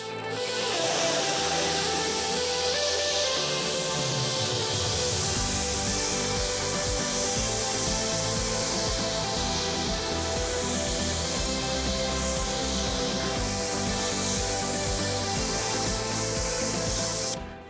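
Water spray rinses DP Bug and Tar Remover off a car's bug-spattered front end, a steady broad hiss running continuously and fairly loud from start to finish.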